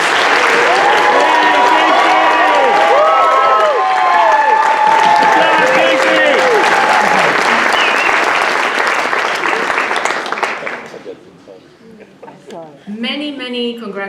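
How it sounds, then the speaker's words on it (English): Loud, sustained applause with cheers and whoops for graduating undergraduates at an English department convocation, a dense crowd roar that fades after about ten seconds, then a voice begins speaking. "Please give a round of applause to all of the undergraduates."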